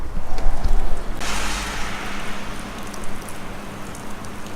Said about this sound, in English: So the UK has finally had some rain.